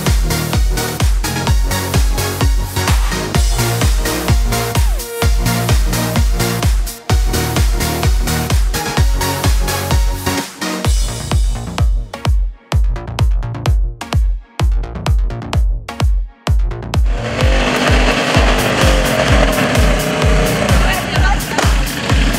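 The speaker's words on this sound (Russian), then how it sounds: "колонна байкеров, она всегда впечатляет" A column of bikers rides by on motorcycles, engines roaring loudly and rhythmically as machines pass one after another, with a brief quieter gap before a broad wash of crowd and traffic noise.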